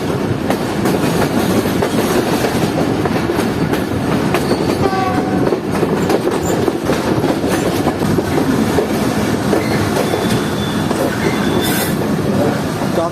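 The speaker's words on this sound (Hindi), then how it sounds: "ट्रेन जो है वो इस वक्त सिर्फ 1 मिनट बिफोर पहुंच रही है रायवन जंक्शन रेलवे स्टेशन के प्लेटफॉर्म नंबर 3 पर" The Fareed Express train pulls into platform 3 at Raiwind Junction railway station, a steady loud rumble of wheels and carriages with clickety-clack, brief squeals and a short horn near the end, heard up close throughout.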